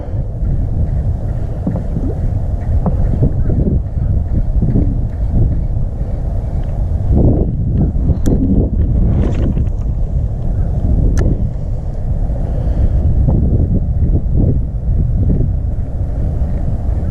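Wind buffeting a boat out fishing for skipjack, with a steady rumbling roar of gusts across the microphone and hull that swells in the middle and never lets up.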